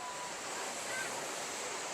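Sea waves wash steadily onto the shore at Odesa's Velykyi Fontan beach on the Black Sea, a continuous broad roar of surf and spray with no clear breaks.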